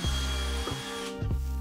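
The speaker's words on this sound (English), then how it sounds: "And now I can drill the last hole in the jig again." A power drill bores a hole through a wooden cabinet jig in short bursts, the motor whirring up and dropping off between passes, close and moderately loud.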